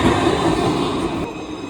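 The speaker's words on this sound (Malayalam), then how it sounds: "ആ അതെ, നമ്മളെ ട്രാം വരുന്നുണ്ട്." A tram arrives along a Dublin city street with a loud, close, steady rumble and rail hum that fades slightly near the end, with no voices.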